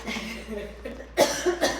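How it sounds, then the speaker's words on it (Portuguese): A couple of short coughs close to the microphone after a quiet moment. "Segura só um minutinho que eu vou tossir"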